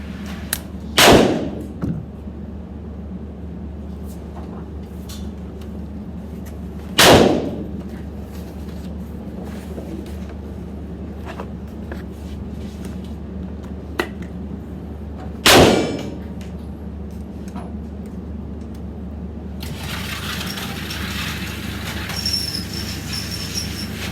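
Three sharp, loud gunshots from a Smith & Wesson Air Lite .22 caliber eight-shot revolver ring out several seconds apart against quiet background noise.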